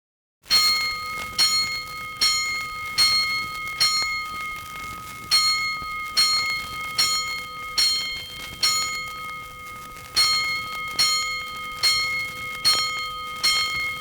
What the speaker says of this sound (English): Five bells. Stand by all stations.